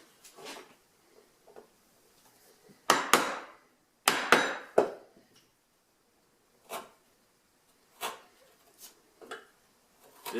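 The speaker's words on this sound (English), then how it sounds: "I'm going to use a different chisel" Chisel chopping waste out of wood for a saw bench, sharp mallet strikes on the chisel spaced irregularly, a couple of heavy close blows followed by lighter taps and scraping, alone without talk.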